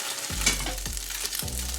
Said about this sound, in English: increase the temperature of the flame, higher flame, and now I'm going to fry the gyoza